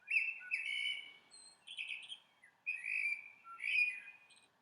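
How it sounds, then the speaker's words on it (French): A blackbird sings a few bright, fluting whistled phrases with short pauses between them, close and clear against a quiet background. "Écoutez bien, il chante très très bien le merle."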